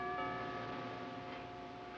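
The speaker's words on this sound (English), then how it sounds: "No, I'll ring the bell." A doorbell rung at a door gives a single sustained, ringing chime tone that lingers quietly for about two seconds, with no voices.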